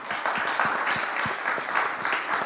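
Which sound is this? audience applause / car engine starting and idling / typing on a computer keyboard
audience applause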